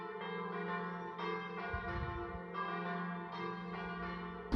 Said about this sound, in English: we have very loud church bells that were right on time